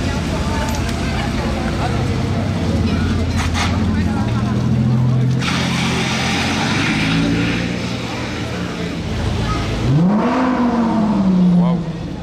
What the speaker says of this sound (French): C'est le Huracan qui est là-bas derrière, qui est en train de démarrer du casino.